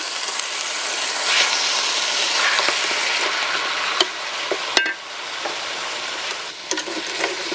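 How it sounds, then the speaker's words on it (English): Beef sizzles and fries in dark, caramelized brown sugar, giving a steady close hiss broken by occasional stirring clicks and scrapes. "and then you're going to put the beef in"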